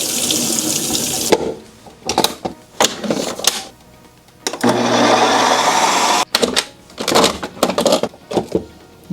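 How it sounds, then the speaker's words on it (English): Hot water running from a kitchen tap over a Ninja Creami ice cream pint, loud gushing bursts that start and stop several times with short quiet gaps, no talking. "Let's run this under hot water for 1 minute,"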